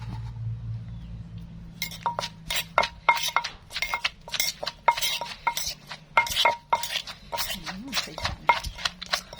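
Thai papaya salad with fish, no crab, pounded in a mortar outdoors, giving a steady run of sharp knocks and clinks that starts after a quiet, humming opening and keeps going to the end.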